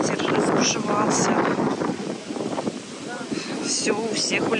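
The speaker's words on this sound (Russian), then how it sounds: "Ветер разбушевался." Strong wind gusting across an outdoor flea market in Kyiv, a loud, continuous rushing roar buffeting the microphone, with voices talking underneath.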